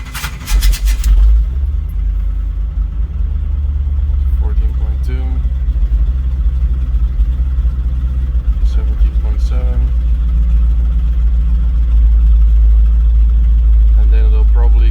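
A car engine in an alternative-fuel setup starts up with a brief burst and then settles into a steady, low rumbling idle, close by, with someone speaking briefly over it.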